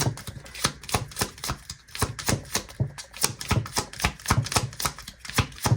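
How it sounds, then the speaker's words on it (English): Tarot cards are shuffled by hand in a quick run of sharp, rapid riffling clicks. The bursts come in uneven clusters and sound close up. "I'm trying not to mess up all the cards. It makes it so hard to shuffle over."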